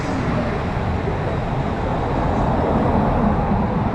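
Traffic on a road in Isloté, Puerto Rico, a continuous loud rumble of cars passing close by, broadband roar with no pauses.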